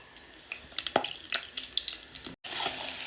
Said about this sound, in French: je vais les mettre à frire